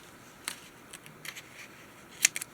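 Paper being cut with scissors during junk journal crafting, heard as a few quiet, separate snips spread over a couple of seconds. The last snip is the sharpest, followed by two softer cuts, all against a faint background hiss.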